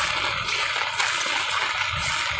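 Steady rain pours onto a street in the Philippines, a dense, even hiss of water and splashing that stays loud throughout with no pauses.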